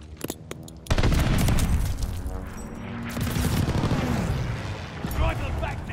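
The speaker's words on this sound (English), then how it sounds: "Allied airstrike coming in hot." An airstrike hits in Call of Duty: Vanguard, with a few sharp cracks and then a heavy, sustained rumble of explosions, loud and close, and voices shouting over the blasts.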